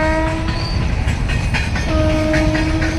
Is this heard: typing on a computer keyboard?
no